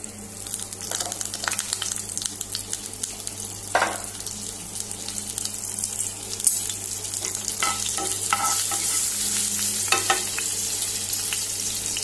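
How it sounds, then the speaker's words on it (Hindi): Spices with a generous pinch of asafoetida tipped into hot oil for a Goan tempering, hissing and sizzling steadily while a spoon stirs and scrapes the pan in irregular bursts, close and clear without talk. "आतां हे तेल बरें तापलें, आतां तातूंत हे सगळें घालुया।"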